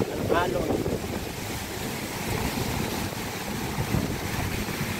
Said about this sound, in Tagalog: Pag talagang ano ng bagyo. Laki ng alon.